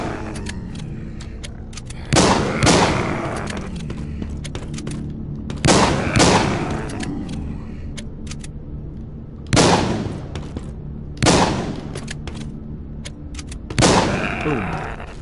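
Bursts of heavy automatic gunfire from a Gatling gun in the mobile game The Walking Zombie 2, arriving as five loud, separate volleys of a second or so each over a steady low background rumble.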